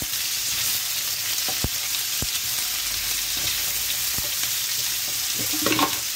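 Dried red chilies and vegetables sizzle in hot oil for a Bengali-style tempering, a steady close frying hiss with a few sharp crackles and stirring scrapes near the end, no voices.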